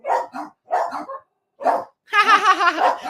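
Indoors at a horse-training home, a dog barks in several loud, close bursts separated by short pauses, ending in a longer run of rapid yapping, with no talking over it.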